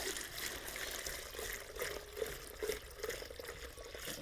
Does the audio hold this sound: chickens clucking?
no